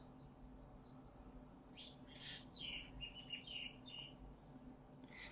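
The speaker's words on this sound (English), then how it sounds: "They're really, really loud." Small birds twitter and chirp outdoors in the morning, a run of quick repeated chirps followed by clusters of brighter calls, fairly distant over a low steady background hum.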